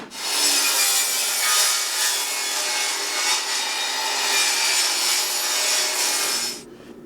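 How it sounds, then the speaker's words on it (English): A table saw cuts a shallow 10-degree angle through spruce siding board, its blade freshly tightened after running loose: a loud, steady ripping whine that holds for about six seconds and then cuts off abruptly, with no talk. "So I think we need to cut a 10-degree angle on the table saw."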